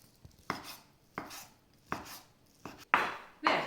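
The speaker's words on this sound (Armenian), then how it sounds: "Ես հիմա կշարունակեմ կտրատել" A knife chops chicken breast and mushrooms on a board, six distinct thuds spaced roughly half a second apart, close and crisp with quiet between strokes.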